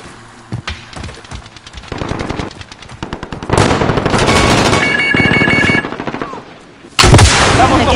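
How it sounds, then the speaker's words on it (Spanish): Loud automatic gunfire in the video game Modern Warfare on PS4 comes in rapid, broken bursts, building up over several seconds and ending with a sudden, heavy volley. "¡Colega, me están disparando!"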